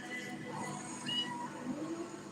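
A hungry kitten meows repeatedly, short thin cries rising and falling at close range over a quiet indoor background.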